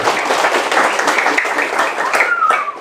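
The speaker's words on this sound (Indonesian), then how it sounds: "Coba beri tepuk tangan buat jenengan semua." A crowd at a religious gathering in a mosque claps together in a loud, close burst of applause that continues evenly for a few seconds.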